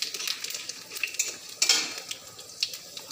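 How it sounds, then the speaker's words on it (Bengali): Cumin seeds sizzle in hot oil for a tempering, a soft crackling hiss punctuated by a few bright metallic clinks of a utensil against the pan. "আর একটু জিরের ফোড়ন দেব।"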